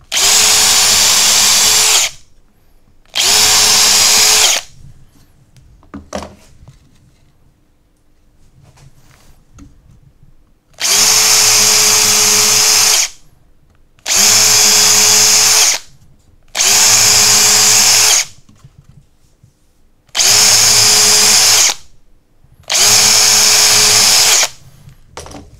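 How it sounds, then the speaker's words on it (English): A power drill spins up in repeated loud bursts as the bit bores through pallet wood, seven whining runs of a second or two each, separated by short quiet pauses. "I can feel the difference in the resistance as the drill bit goes through that top bit"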